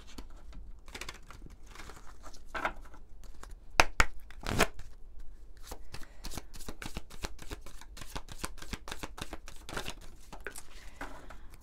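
A deck of fairy oracle cards is shuffled by hand nearby: rapid papery riffles and soft slaps in uneven bursts, with a couple of louder flicks partway through and no voices.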